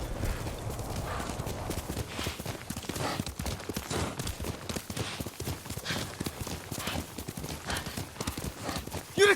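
Horse hooves clip-clop steadily in Ghost of Tsushima, with an occasional neigh over a busy, continuous game soundscape.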